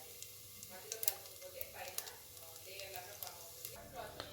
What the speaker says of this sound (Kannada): ಇದು ಹಾರ್ತಾ ಇದೆ ಚಟಪಟ ಅಂತ